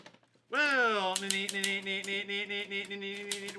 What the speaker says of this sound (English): I gotta get a new typewriter